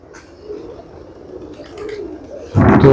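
Soft, low cooing from a Saharanpuri black pigeon close by, a few gentle rolling coos in quiet surroundings, ending with a sudden louder rustle or flap.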